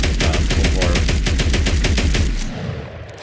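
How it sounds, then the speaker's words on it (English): The USAS-12 automatic shotgun in the video game Fallout 4 fires a rapid, loud, close burst of about a dozen booming shots in even rhythm, then the burst stops and the echo fades. "I'm wasting a lot of shotgun shells right now into this tree"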